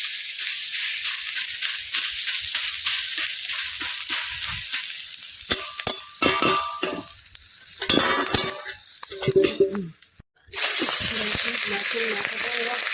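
Fish roe frying in a pan, a steady close sizzle broken by clinks and scraping of a spatula midway, a brief drop to near silence, then the sizzle resumes.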